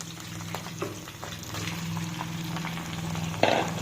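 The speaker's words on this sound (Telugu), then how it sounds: "వేయించాలండి, ఒక 2 to 3 minutes. ఇలా తిప్పుకుంటూ వేయించుకోవాలి." Grated raw mango fries in a pan with a bubbling sizzle, broken by scraping stirs and a sharper knock near the end, fairly close and quiet.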